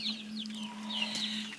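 Chickens cluck and chirp softly in a farmyard, with a steady low hum running underneath.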